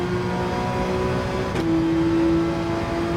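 Car engine in Gran Turismo 7 holding a steady, loud drone with sustained harmonic tones, a brief gear-change dip midway, then continuing at a slightly higher pitch, no talk.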